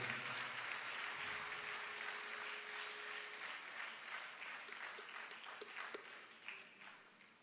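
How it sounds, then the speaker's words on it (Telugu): A congregation at a live church worship service claps loudly in sustained, dense applause that carries on without a break and eases off slightly toward the end. "బిగ్గరగా చప్పట్లు కొడుతూ స్తుతిద్దాం."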